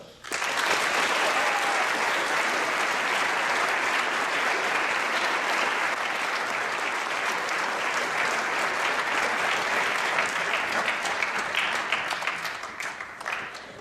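An audience at a high school assembly for Veterans Day applauds to welcome a veteran speaker. The clapping is dense and sustained, steady for over ten seconds, then tapers off.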